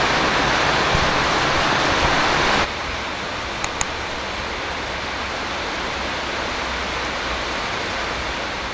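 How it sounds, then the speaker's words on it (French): A heavy downpour falls in Vietnam. A loud, hissing roar of rain drops sharply after a few seconds to a softer, steady patter that continues to the end. "Ça fait 1 heure qu'il pleut"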